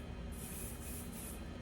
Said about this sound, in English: Taking my next section, I'm going to spray it